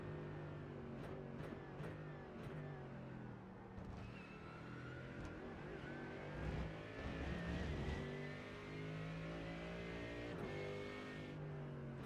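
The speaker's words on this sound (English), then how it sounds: "I love the sound of that car" A GT3 race car at a 2024 GT3 Open round roars around the track, its engine note rising and falling through gear changes at a loud, sustained level, swelling briefly near the middle as it passes close, with no voices.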